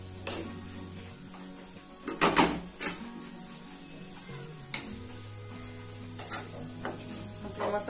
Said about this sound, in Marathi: आणि परत आपण सगळे जिन्नस मिक्स करून घेणार आहोत चांगल्या प्रकारे.